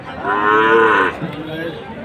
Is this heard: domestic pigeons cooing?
no